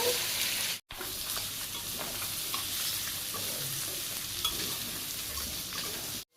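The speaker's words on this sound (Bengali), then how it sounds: "আমার একটু ভালো করে কষিয়ে নিই" Chicken and potato pieces with garam masala fry in a pan, giving a constant close sizzle with soft stirring scrapes and a brief break near the start.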